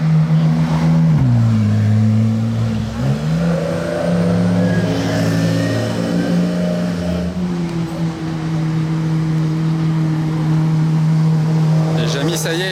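A Porsche Carrera-based kit car, made in Poland, revs loudly on a Monaco street at night, its engine tone rising, dipping and holding in a strong sustained drone, with a voice speaking nearby.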